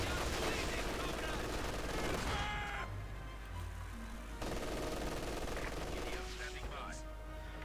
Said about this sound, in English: incendiary armor piercing rounds just flying down upon them